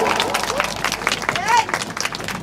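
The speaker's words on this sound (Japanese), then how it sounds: "ダンサーのみんなに大きな拍手をお願いします。" Audience applause and cheering for dancers at a live dance and music show, dense clapping mixed with crowd noise and shouts that carries steadily through the short stretch, with a voice rising briefly above it.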